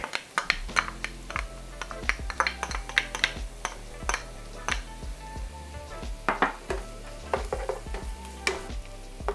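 Garlic sautéing with softened yellow onions in a pan, a steady close sizzle broken by frequent sharp scrapes and clacks of stirring, with no talk.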